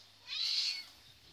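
A single cat meows once indoors in a home, a short, clear, mid-pitched call rising and fading over about half a second against a quiet room.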